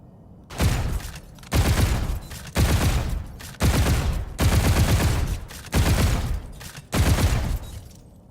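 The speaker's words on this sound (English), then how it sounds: "Now when we fire the weapon and then we reload, we will be able to break the reload instantaneously." Video game gunfire from a modded controller: seven bursts of rapid automatic fire, each about a second long, separated by short gaps where the reload is cut short, loud and close with no talking.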